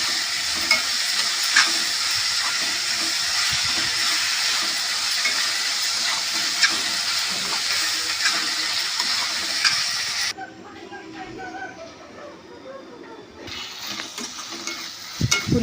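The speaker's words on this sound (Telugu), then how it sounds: "ముందుగా కట్ చేసుకున్న టమాటా ముక్కలు, కొత్తిమీర, పుదీనా వేసుకొని బాగా ఫ్రై చేసుకోవాలి." Tomato pieces, coriander and mint hiss and sizzle with onions in a pan of hot oil for a mutton curry, with continuous close stirring and frying that drops quieter partway through, then surges again.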